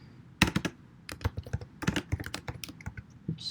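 Quick, irregular keystrokes on a computer keyboard during a programming lecture, clicking close and clear in uneven bursts with short pauses, no voices.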